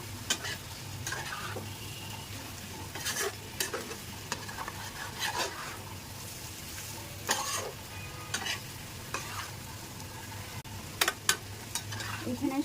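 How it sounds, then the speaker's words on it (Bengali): Whole spices frying in oil with no water in a pan for a fish curry with potato and tomato, a steady low sizzle broken by repeated scraping stirs and clinks, close and moderately loud, with no talking. "শুধু তেলের উপর ভাজতেছি।"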